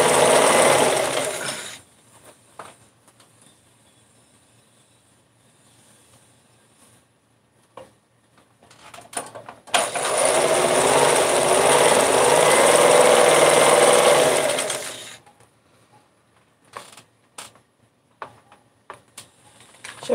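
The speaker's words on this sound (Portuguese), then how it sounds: "Eu vou ficar costurando aqui." A sewing machine runs in two bursts, a steady fast rattling drone that starts and stops with quiet gaps and light clicks between, close by with no talking.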